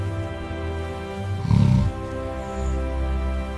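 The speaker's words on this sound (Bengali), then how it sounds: "সিংহের গর্জন আট কিলোমিটার দূর থেকেও শোনা যায়" A single deep, throaty lion roar swells briefly in the middle, set against a sustained low droning background.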